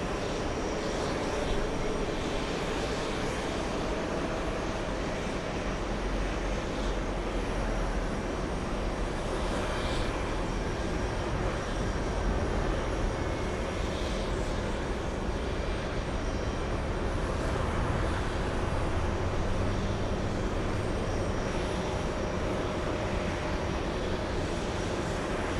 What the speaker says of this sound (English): Let's go over to the Japanese A350-1000 flying in from Haneda.